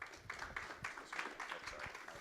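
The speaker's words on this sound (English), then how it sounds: "Let's give him a round of applause" A quiet audience at a business session on life insurance and annuities gives a short round of steady clapping that sounds faint and somewhat distant, with no voices over it.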